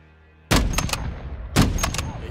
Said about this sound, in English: Oh, now I shoot at him